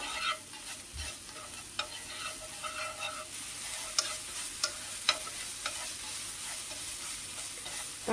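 Vegetarian minced meat sizzles and fries in a pan while being stirred, a steady soft hiss broken by scattered clicks of the utensil against the pan, with no talk.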